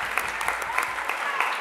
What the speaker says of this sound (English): Round of applause for these students